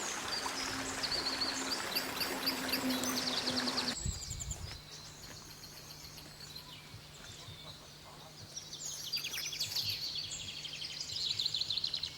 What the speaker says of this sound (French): Laissons-nous à écouter les bruits de la nature, ruissellement de l'eau, pépillement des oiseaux.